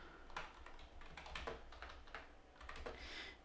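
Rapid, uneven clicking of keys as someone types on a computer keyboard at a desk, fairly quiet and close, with bursts of keystrokes throughout and no speech.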